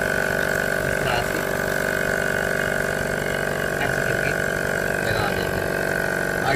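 A small electric air compressor motor runs while inflating a car tyre, a loud, steady mechanical drone with a constant whine, heard close up and unbroken from start to finish.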